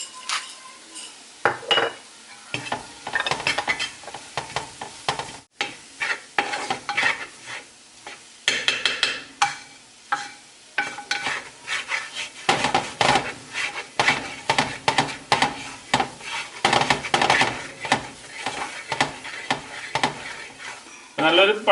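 A spoon keeps stirring lamb brain roast in an uruli pan, scraping and clinking against the metal in an irregular rhythm over a soft sizzle, with a person talking now and then.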